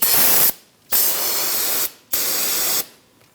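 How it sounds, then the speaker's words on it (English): Three long hissing bursts of aerosol brake parts cleaner sprayed onto the rear brake area of a 2009-2014 Ford F-150, each blast steady and close, separated by short pauses. "We'll clean up this area with a little bit of brake parts cleaner."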